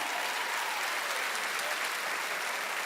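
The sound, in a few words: applause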